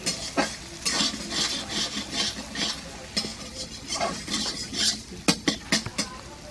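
Eggs seasoned with salt and pepper are stirred and scrambled in a frying pan for bhujia, a spatula scraping and clinking rhythmically against the pan over a gentle sizzle, ending in a few sharp taps.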